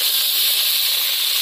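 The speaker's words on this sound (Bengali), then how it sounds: "তো এবার আমি মাছগুলো ভেজে নেব।" Rohu fish pieces fry in hot oil in a very hot wok, giving off a loud, steady, close sizzle with no other sound.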